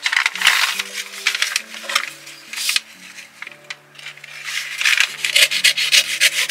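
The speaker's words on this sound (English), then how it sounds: "Let's cut it in half this way first." Recycled cardboard packaging being cut in half, giving a close, loud run of rough scraping and rubbing strokes with brief pauses, with faint tonal background music underneath.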